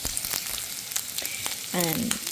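Butter sizzles in a frying pan with a faint, steady crackle and scattered pops, and a brief clank of cookware comes near the end.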